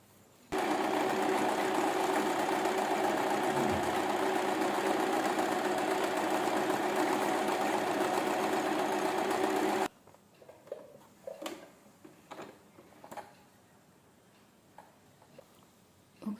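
A sewing machine stitching embroidery around a cut design runs at a steady, loud, rapid whir for about nine seconds, then stops abruptly, leaving quieter handling clicks and light taps.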